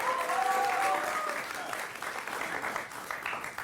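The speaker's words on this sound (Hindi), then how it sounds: "हम लोगों की मेहनत के लिए तालियां बजा दीजिए" An audience at a Hindi comedy poetry show claps in a dense, continuous round of applause that stays fairly steady and close throughout, with a faint tonal note in the first second.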